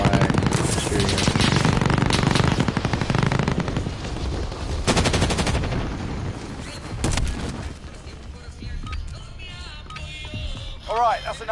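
Rapid automatic gunfire in a PS4 shooter game, loud sustained bursts with scattered single shots, easing off to quieter in-game sounds and brief whooshing effects toward the end.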